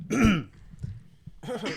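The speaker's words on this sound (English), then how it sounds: "Just clear your throat into the mic." Someone clears their throat close to the microphone, a short rasping rumble followed by a second gruff throat sound after a brief pause.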